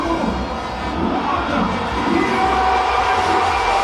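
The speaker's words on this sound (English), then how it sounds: "crowd letting us know that it is time to go" Cricket stadium crowd at Queen's Park Oval during a T20 match, a broad, continuous roar of distant spectators with a steady rumbling undertone and no clear individual voices.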